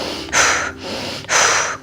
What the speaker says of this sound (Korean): 2초 간격 들이마시고 2초 간격 내쉬고